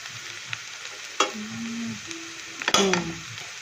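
Garlic cloves fry in a pan with a low hiss as a spoon stirs them, giving a few loud scraping knocks on the pan and a brief rattling burst near the end; no speech.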